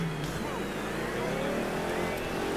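A stolen car in the video game Mafia III drives off, its engine revving and accelerating in a steady, loud roar with rising pitch, no talking over it.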